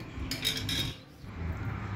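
A spoon stirs a jug of buttermilk mixed with cold water in a home kitchen, giving light clinks and scraping against the vessel in two short bursts, close and clear with no talk.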